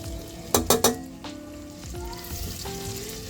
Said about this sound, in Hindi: इसमें हम 4-5 मिर्च डालेंगे बारीक काट कर।